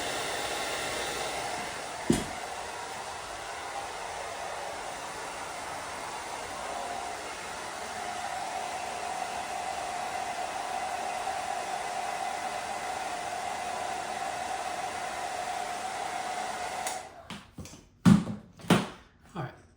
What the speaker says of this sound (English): So I'm gonna quickly hit it with a hair dryer.